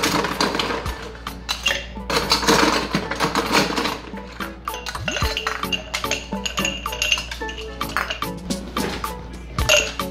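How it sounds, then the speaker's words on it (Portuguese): Ice cubes tumble into a tall cocktail glass while a Paloma is being made, giving a run of bright clinks and clatters, busy at first and then settling into scattered knocks close by. "bastante gelo no meu copo"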